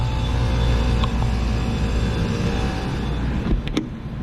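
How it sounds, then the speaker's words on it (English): Fan motor of an AAON HVAC rooftop unit running, a steady, loud low drone and whir close by, with a couple of brief clicks near the end. "Fan motor's going."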